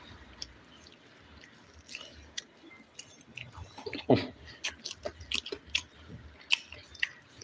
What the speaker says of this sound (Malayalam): ചിക്കൻ ഫ്രൈ എടുക്കാം നമുക്ക് കേട്ടോ അടിപൊളി ചിക്കൻ ഫ്രൈ ആണ് കഴിക്കാം ചോറിൻ്റെ കൂടെ മിക്സ് ചെയ്തിട്ട് കഴിക്കാം നമ്മൾ